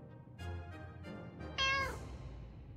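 Cats meow repeatedly in the video game 60 Seconds! Reatomized, several separate meows with a louder, longer drawn-out cry near the end, heard alone without talk.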